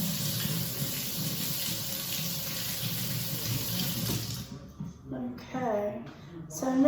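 A kitchen faucet runs in a steady hiss while hands are washed, then shuts off abruptly partway through, after which a person talks.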